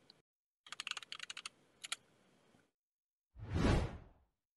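Quick bursts of keystrokes on a computer keyboard while searching Settings in the GNOME desktop, a short flurry of clicks near the mic followed by a single louder whoosh.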